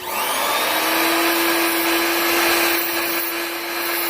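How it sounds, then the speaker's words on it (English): A power drill bores a hole through a fabricated metal Z-shaped license plate clip for a 1933 Dodge DP 6, producing a loud, steady motor whine that holds level throughout with no talking. "And then I drill a hole in it."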